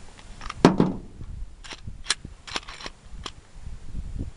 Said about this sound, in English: let me clear the weapon